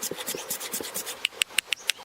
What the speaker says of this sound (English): He selects a thick log and begins by sawing off a section.